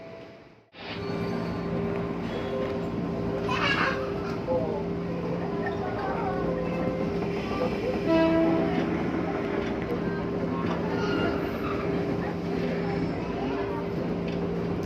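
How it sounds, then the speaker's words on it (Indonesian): Steady rumble and hum of a JR 203 commuter train running, heard from inside a carriage, with a constant low drone and occasional clanks, muffled talk underneath. "Sore ini kita coba naik JR 203."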